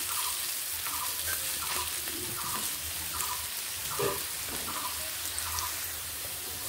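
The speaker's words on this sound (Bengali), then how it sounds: "গাজরগুলো এইভাবে ভেজে নিলাম। গাজরগুলো প্রায় ভাজা হয়ে এসেছে।" Steady sizzling of carrots frying in a pan, with a spatula scraping and stirring at a regular rhythm throughout. No voices.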